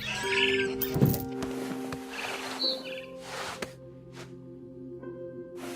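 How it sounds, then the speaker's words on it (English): A barn swallow chirping near its nest in the video game What Remains of Edith Finch, with high bird calls over a sustained musical drone and scattered game sounds. "Then I heard chirping outside my window. It was a barn swallow going back to her nest."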